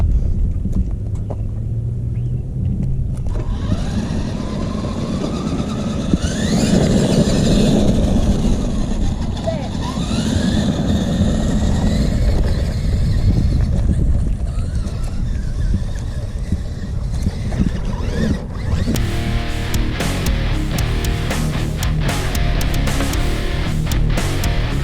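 A Tamiya Super Clodbuster RC monster truck runs with a whining electric motor that rises and falls over a rough, rumbling background. People talk over it throughout.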